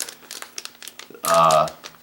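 Plastic fishing-bait package for a small soft-plastic lure crinkles loudly and up close in one burst of about half a second, following quieter handling and a bit of talk.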